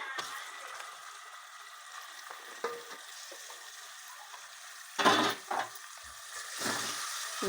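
Goat mutton curry fries in a pan with a steady, close sizzle. A few louder scrapes and knocks come from stirring.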